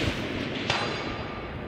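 A Bergara B14 rifle fired at a long-range target 400 yards out gives one sharp, loud muzzle blast that rolls away into a long outdoor reverberation, with no talk.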